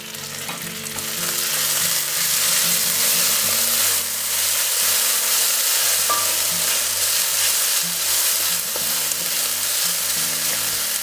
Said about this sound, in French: on va déjà mélanger une première fois